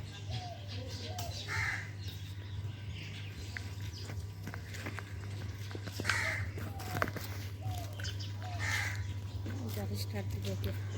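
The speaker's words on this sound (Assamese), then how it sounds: "সেইবিলাক চৰাই" Crows caw several times at a moderate distance over a steady low engine-like hum, with a few faint chirps and footsteps in the background.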